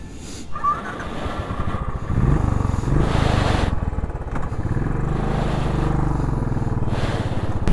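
A motorcycle engine runs after a kick start, idling nearby in a steady, chugging putter with slight rises in revs, loud and continuous with no talk over it.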